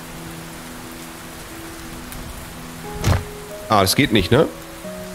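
Rain falling in the video game Len's Island, a steady soft hiss throughout. Someone speaks briefly over it near the end.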